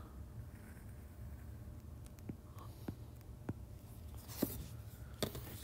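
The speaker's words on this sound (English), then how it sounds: "then we'll draw the z-axis" A z-axis is drawn by hand onto a graph, giving soft, close scratching strokes with a few sharper taps over a quiet background.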